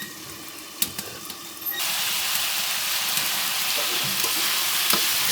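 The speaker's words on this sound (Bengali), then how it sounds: "ঢাকনাটি সরিয়ে ভালো করে নাড়াচাড়া দিতেছে" Vegetables being stirred in a pot over a village clay stove for a rohu fish curry: a few scattered knocks and scrapes, then a loud, even frying hiss takes over and carries on steadily to the end.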